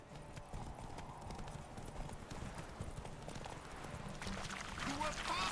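Clip-clop of Geralt's horse Roach galloping in The Witcher 3, a steady rapid hoof rhythm with a brief whinny, under a man's speech and game music.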